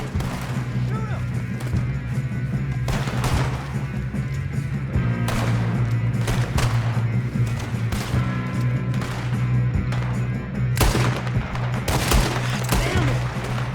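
Rapid gunfire in the video game Red Dead Redemption 2, with repeated loud close shots and bursts over a steady droning background, while voices talk between the volleys.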